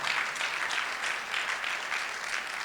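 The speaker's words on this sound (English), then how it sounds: "I think we should give him more applause" Audience applause at a talk, dense steady clapping from many hands, moderately loud and sustained throughout with no talk over it.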